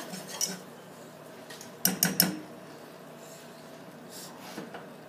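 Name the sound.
stirring caramel after adding baking soda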